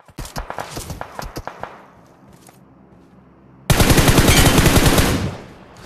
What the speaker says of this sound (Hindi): इतने में पीछे पीछे से मुझे हल्के हल्के टैप फायर आ रहे होते हैं